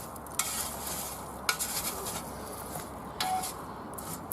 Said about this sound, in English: Let's see if we can stir a bit of life into these embers.